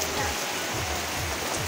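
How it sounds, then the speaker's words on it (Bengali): Rain pours down in a village setting, falling hard enough to whip up foam where it lands, a dense continuous hiss of drops close by with no pauses. "বৃষ্টি ফেনা হইতাছে দেখো অবস্থা"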